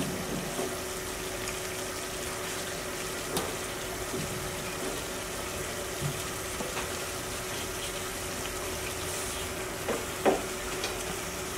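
Chicken for morog polao, with almonds just added, cooks in a pan with a steady, even hiss throughout and occasional soft knocks as it is turned over, nearby and without voices.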